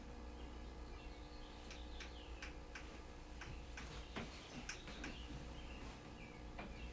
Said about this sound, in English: you hear the birds? Yeah, I can. In here, at least.